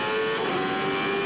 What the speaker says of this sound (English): They go screaming past the pace car.